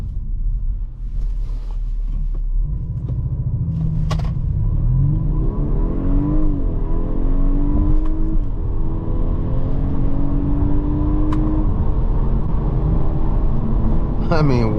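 2023 Audi A5 Sportback with a four-cylinder engine pulling away from a dead stop, the interior engine note rising steadily through the gears with brief shift dips, a loud rumble and whir heard from inside the cabin while a person talks over it.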